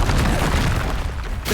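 A Confringo explosive spell blast from Hogwarts Legacy combat, a dense, loud, low boom that rumbles for about a second and a half, then fades.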